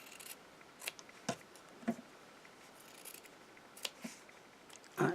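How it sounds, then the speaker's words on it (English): Scissors trimming the edges of a damask mixed media paper art tag, a handful of sharp, quiet snips spaced about half a second apart against a faint room background. "I will just trim those a little bit long"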